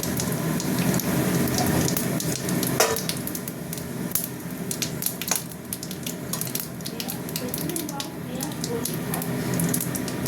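Dried chillies, bay leaves and whole cumin frying in hot oil, a continuous loud crackling sizzle with scattered sharp pops, while a voice talks over it.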